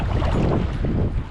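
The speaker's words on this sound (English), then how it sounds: "this wind is horrific" Strong wind blasting across open Cherokee Lake during a bass fishing tournament, a loud, continuous roar buffeting the microphone with no pause, water and boat noise blended underneath.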